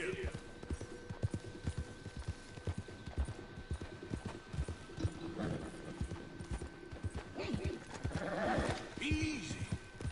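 Horse hooves clip-clop steadily through the Red Dead Redemption 2 game world, with a whinny rising near the end; the hoofbeats sound close and rhythmic under scattered talk and ambient noise.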